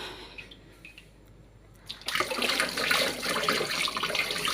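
A kitchen tap is turned on for hand washing during cooking. After a quiet stretch, a steady, close rush of running water starts and continues.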